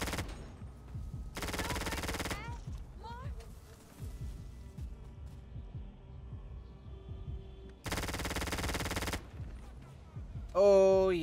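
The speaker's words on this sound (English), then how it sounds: "they're calling for a lot of backup fire right now. I can't see what I'm shooting at" Sustained bursts of automatic gunfire in a GTA 5 roleplay firefight, two long loud volleys several seconds apart, with someone talking and game sounds in between.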